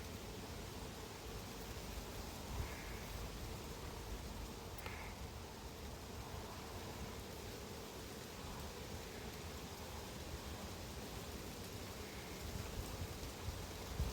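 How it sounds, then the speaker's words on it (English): Light drizzling rain falls at an outdoor beehive apiary, a faint, steady hiss with soft scattered patter and no talk. "it's raining, drizzly"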